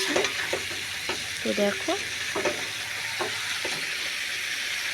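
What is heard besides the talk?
chicken being sautéed with spices in a pan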